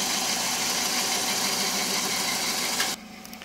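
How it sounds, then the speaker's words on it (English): A 2001 Hyundai Accent motor runs at a steady, fairly loud idle with a constant broadband hum, then cuts off abruptly near the end into near silence. "I thought I'd make a little YouTube video that way you can hear the motor running,"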